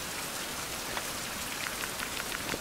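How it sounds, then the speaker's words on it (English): In the survival video game Survival Fountain of Youth, rain falls steadily, a dense even hiss with scattered small droplet taps and no voices. "Now it is raining, might as well."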